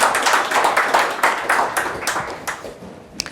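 Audience applause for a man introduced on stage, a dense burst of hand clapping that rises and then thins out over a few seconds, with a single louder clap near the end.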